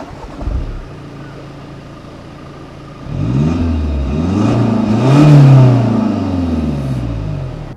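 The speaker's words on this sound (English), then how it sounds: "my driving experience with our test car, the 150 horsepower strong TDI engine in the Passat Alltrack" A 2015 Volkswagen Passat Alltrack B8 with its 150 PS TDI diesel engine idles low, then revs up and accelerates in rising, shifting pulls that swell to a peak before easing off, close and loud.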